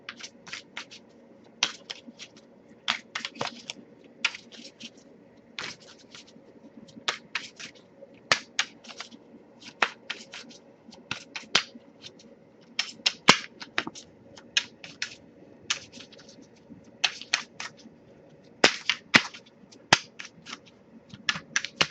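Tarot cards are shuffled by hand in repeated bursts of crisp riffling snaps, close and uneven in rhythm, with short pauses between rounds.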